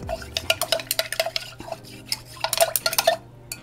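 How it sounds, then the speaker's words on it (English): A DIY room spray mixture with polysorbate 20 is stirred in a container, producing quick rhythmic clinks and taps of a utensil against the sides, close and unaccompanied by speech. "We're going to mix it well, and this concludes our formulation."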